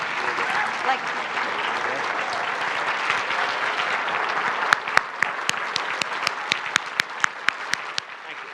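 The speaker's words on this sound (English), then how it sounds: "now you may all stand and applaud for them" A room full of people at a governor candidates forum applauds steadily, broad clapping that turns into rhythmic, regular claps toward the end.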